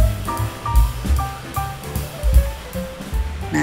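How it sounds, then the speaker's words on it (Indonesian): A small river babbles outside a lake-view suite at a resort in Lembang, Bandung, a close, continuous rush of gurgling water with no voices. "ada suara gemericik air dari sungai kecil gini"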